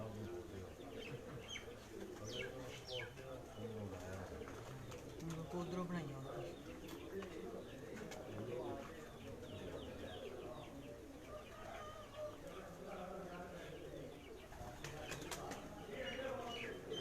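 Pigeons gather on a rooftop as they are fed, giving soft repeated cooing with occasional wing flaps, quiet and fairly close, over a low murmur of background voices.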